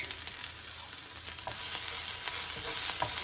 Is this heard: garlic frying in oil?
yes